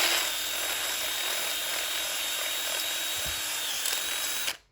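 A power drill bores into metal for budget Jeep rock sliders, making a steady high-pitched whine with harsh grinding that runs unbroken for several seconds close by before stopping abruptly.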